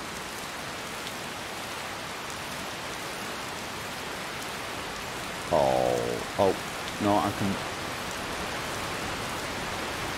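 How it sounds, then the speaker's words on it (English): Heavy rain pours steadily in Skyrim Special Edition, a dense continuous hiss throughout, with a voice speaking briefly partway through. "it is raining hard"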